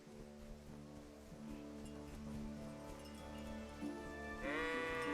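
Sheep bleat in a medieval village in the game Kingdom Come: Deliverance, several calls rising over a soft ambient background, with a louder, brighter bleat near the end.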